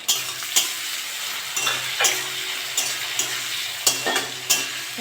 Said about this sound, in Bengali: একটু ভেজে নেবো চিংড়ি মাছটা।